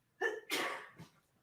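A single sneeze, close and fairly loud, with a quick breathy intake followed by the sharp burst and a soft trailing exhale.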